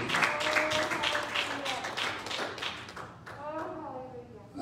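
A church congregation claps their hands during a worship service; rhythmic clapping runs steadily under loud voices and singing, fading briefly near the end before picking up again.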